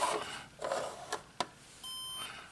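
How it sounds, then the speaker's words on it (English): Scrabble Flash electronic letter cubes give a short series of high, clean electronic beeps near the end to confirm a word, following a few soft clicks and taps of the cubes being handled. "And it confirms with that beeping."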